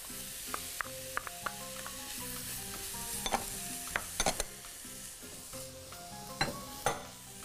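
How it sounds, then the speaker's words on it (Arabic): Coloured bell peppers and green pepper sautéing in a pan: a soft sizzle with scattered clinks and scrapes of stirring, set against steady background music, with no voices. "وهاخد تشويحه كده من الفلفل الالوان كده"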